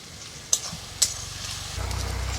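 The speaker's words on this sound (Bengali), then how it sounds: "পেঁয়াজ আর টমেটো দিয়ে দিয়েছি এবার ভালো করে নেড়ে ছেড়ে নেবো" Onion and tomato sizzling in a pan at a village picnic cooking duck meat, with two sharp scraping stirs early on, then a steady close bubbling fry that swells louder near the end.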